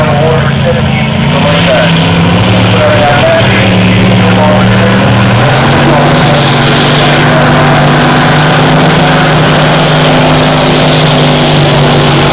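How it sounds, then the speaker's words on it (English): Racing powerboat running hot laps on a water course: a loud, continuous engine drone that shifts pitch as it turns and accelerates onto the straight, with a commentator talking over it. "As Troy Marland takes the boat down the bottom turn, bridge end of the course, and brings it back onto the main straight"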